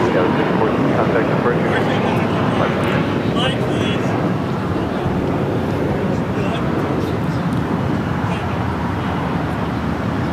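A United Airlines Boeing 777 arriving from Newark roars at LAX with a loud, broad, steady jet rumble that fills the whole stretch, with talking heard over it.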